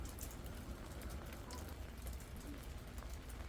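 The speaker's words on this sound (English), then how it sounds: "It's been raining on us all morning." Steady rain falling outdoors on a morning campsite, a dense continuous hiss and patter with no pauses, fairly faint and alone.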